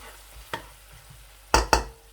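Onion fries with garlic, ginger and cumin for maash dal, a faint low sizzle broken by a few sharp spatula scrapes and clacks against the pan.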